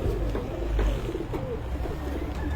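Pigeons of pure and cross breeds cooing, low soft coos close by, repeating over steady background noise.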